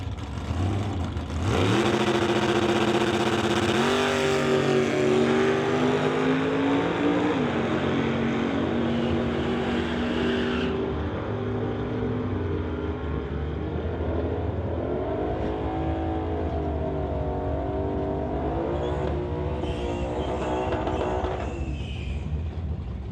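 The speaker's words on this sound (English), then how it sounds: "Brings up John Sayer in the Dodge Dart, racing a Shelby GT500 over in the Lordco side" Drag race cars launch down the strip at a public drag racing event, a loud sustained engine roar with rising pitch sweeps as the cars accelerate away, continuing for about twenty seconds with no talk.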